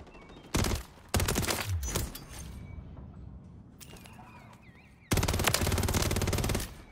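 Automatic WSP Swarm fire in Call of Duty Modern Warfare 3, loud close bursts of rapid shots: a short burst, a longer sustained stream, a quieter gap with faint game sounds, then another long rattling burst.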